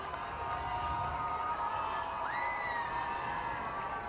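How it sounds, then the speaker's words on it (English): Michigan fans make noise at a college baseball game against Ohio State in the bottom of the ninth, a distant, steady crowd murmur with scattered shouts and a rising whoop or whistle over the top. "Michigan fans have been making noise all inning long"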